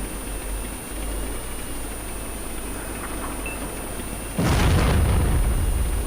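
A tank gun round strikes a KV-2 in a tank video game, a deep booming impact that breaks in near the end over steady engine rumble and a constant high electronic whine, with no voices.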